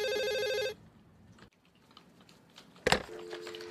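An electronic telephone ring trills briefly and fairly loudly at the start, then stops; quiet office background follows, with a short clatter and a faint tone near the end.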